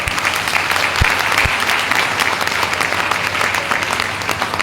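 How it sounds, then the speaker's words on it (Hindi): An audience claps loudly and steadily in a large indoor gathering at a product training event, applauding farmer families. Dense continuous applause fills the whole stretch with a few sharper single claps near the start. "तो एक बार मेरे किसान भाइयों बहनों के लिए जोरदार तालियां।"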